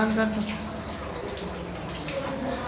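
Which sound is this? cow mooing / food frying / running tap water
running tap water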